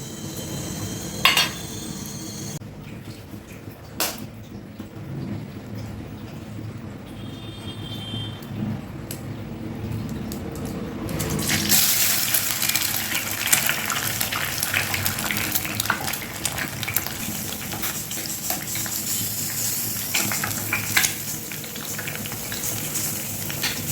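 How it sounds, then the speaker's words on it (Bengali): Two eggs frying in oil in a kadai (wok) for egg tarka: a few metallic clinks and quiet kitchen noise, then a loud, steady oil hiss that starts abruptly midway and continues close up, with no talking. "আমি দুটো ডিম ভাজবো এতে ডিম এগ তরকা করবো তার জন্য আগে ডিমগুলো ভেজে নেবো"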